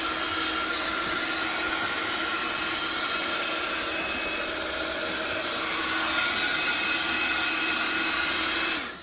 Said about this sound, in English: I'm just going to dry it off a second.